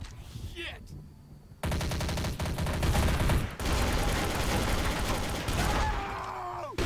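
Gunfire in the game Trouble in Terrorist Town, with a sustained loud burst of rapid automatic shots after a short quieter lead-in, fading toward the end.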